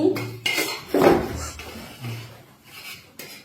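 Rice being served, with plates and cutlery clinking and scraping close by in a few irregular knocks and rubs, while people talk.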